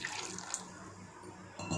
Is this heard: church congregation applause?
no